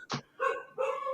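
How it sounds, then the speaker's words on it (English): A small dog gives a quick sharp yip, then two higher-pitched barks follow in close succession, close to the microphone with no talking. "if you can hear my dog's barking like no tomorrow"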